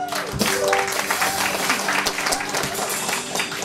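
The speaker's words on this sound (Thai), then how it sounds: "ขอเสียงปรบมือด้วยครับ" A church concert crowd claps steadily throughout, with a musical tone ringing underneath the applause.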